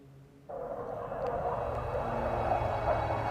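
A jet aircraft in the Ace Combat 7 combat flight game sweeps past with a sudden rising roar that swells into a steady, fairly loud rushing drone. No one speaks.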